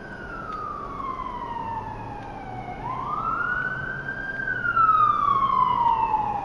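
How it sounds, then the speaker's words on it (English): A loud wailing siren glides down in pitch, swoops back up and then slides down again, ringing out over a low rumble of traffic. "These two are sirens."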